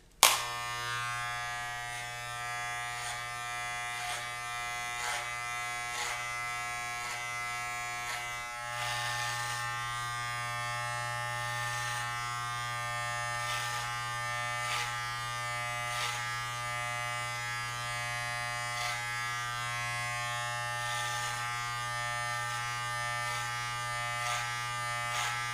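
Electric hair clippers run steadily with a constant buzz through a men's clipper-over-comb haircut, cutting hair lifted on a comb, close and continuous for the whole stretch with slight changes as the blades pass through the hair.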